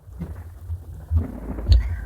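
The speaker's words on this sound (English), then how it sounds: "One day, there was a storm in the forest." Thunder rumbles through a storm in a forest, with low, deep swells rising twice to heavier bursts over a quieter background of rain, fairly loud and with no voices.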